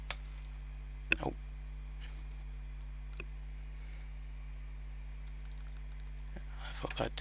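A few soft key clicks tapped on a computer keyboard in a terminal, sparse and quiet, with a short burst of typing near the end over a steady electrical hum.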